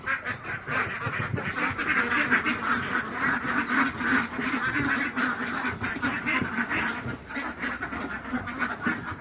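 Young female ducks kept for sale, a flock quacking loudly and almost without pause, many overlapping calls close by and no talking.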